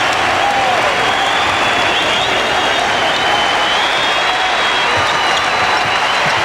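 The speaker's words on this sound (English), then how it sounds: "The crowd on its feet, a standing ovation for the Nets." A packed basketball arena crowd at a 1993 NBA playoff game between the Cavs and Nets gives a standing ovation for the Nets, with dense, sustained applause and crowd roar filling the whole stretch at a loud, even level.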